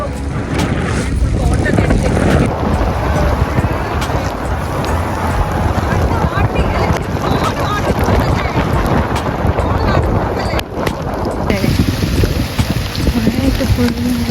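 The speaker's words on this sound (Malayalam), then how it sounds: "നന്നായിട്ട് കാറ്റൊക്കെ ഇങ്ങനെ വീശി തുടങ്ങിയിട്ടുണ്ട്" Strong wind roars and buffets the microphone continuously, loud and gusty from start to finish, after rain in Wayanad.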